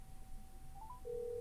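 A Nothing Phone 2 rings with an incoming call: a steady electronic tone line with brief chirps, then a louder sustained ringtone note rising near the end, heard alone and close.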